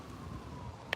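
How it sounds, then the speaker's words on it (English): An ambulance siren passing near the Washington Monument, a faint, steady wailing tone held under outdoor traffic rumble for about a second, with a brief sharp click near the end. "Ambulance going by."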